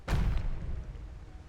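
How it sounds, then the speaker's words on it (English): A single heavy cannon boom from Age of Empires II hits hard at the start and rumbles away over about a second, with no voices. "cannons firing at that poor guy"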